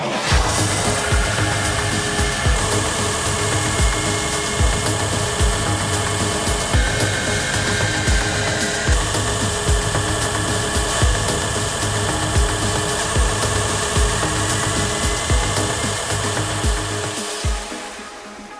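A homemade belt grinder built from go-kart parts and driven by a 5 horsepower go-kart engine runs continuously, a loud, dense engine roar with steady belt whir and rhythmic grinding rasps, slowing slightly at the end.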